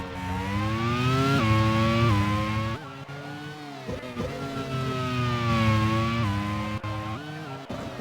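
A race car pulls out of the pit lane in the Grand Prix World Series racing game, its engine whining loud and close and climbing in pitch through repeated upshifts, each gear change marked by a brief dip before revving up again.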